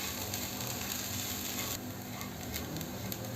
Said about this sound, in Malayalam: ഇനി ഇതൊന്ന് നല്ലതുപോലെ ഒന്ന് ഇളക്കി കൊടുത്ത് ഫ്രൈ ചെയ്യാം